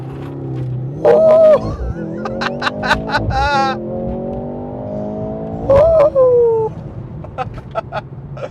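A 2024 Mercedes C43 AMG with a four-cylinder hybrid powertrain in Sport Plus race-start mode revs loudly in rising, stepping pulls with crackles between, a whining boost note on top, close and dominant.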